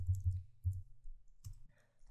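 Computer keyboard arrow keys are tapped several times in quick succession, then again after short pauses, producing crisp, close plastic clicks in an otherwise quiet room.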